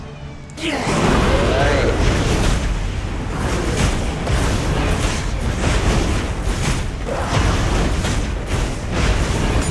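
An explosion effect in the League of Legends: Wild Rift mobile game goes off with a loud boom, then a rumbling, crackling barrage of blasts continues steadily, dense game effects with no talk on top.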